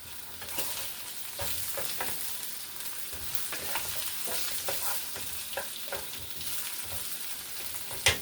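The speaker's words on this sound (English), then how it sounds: "Going to give our apples a stir." Apples cooking in a pan with almond milk are stirred, giving a soft continuous sizzle with repeated scraping and clinking strokes, close and fairly quiet, ending in a sharper clack.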